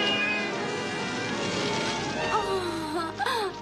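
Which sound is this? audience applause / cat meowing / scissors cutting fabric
cat meowing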